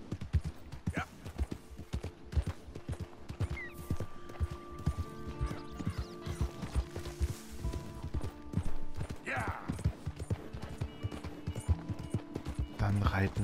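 Steady rhythmic hoofbeats of a horse being ridden in the video game Red Dead Redemption 2, with occasional whinnies and background music, while someone talks over it.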